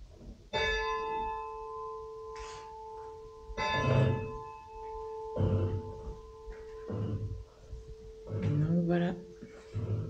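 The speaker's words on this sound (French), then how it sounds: "Vous savez même faire sonner la cloche." A church bell at a memorial site is rung by hand, bright sustained strikes returning several times, with people talking nearby in between.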